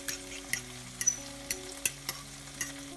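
Egg being stirred in a frying pan over fairly low heat, a soft steady sizzle broken by a handful of sharp scraping strokes at irregular intervals, close and alone, with no talk.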